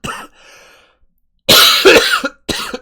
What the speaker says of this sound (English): Just got to get some of these coughs out of the way early.